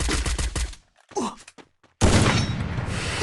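Gunfire in the battle royale game Free Fire, with bursts of rapid shots at the start, a quiet pause with faint sounds, then a loud sustained barrage of shooting.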